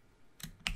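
Two quick keystroke clicks on a computer keyboard while entering a SQL query, close and fairly soft, the second slightly louder, with no talking.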